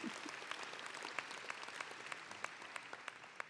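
Audience applause at an interfaith leadership award dinner, a steady wash of many hands clapping throughout with a few sharper individual claps standing out near the end.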